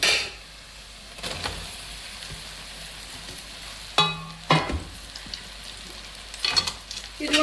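Potato pieces hiss softly in oil with fried onions and spices, a low steady sizzle interrupted by clinks and scrapes of a utensil stirring the pan, close up.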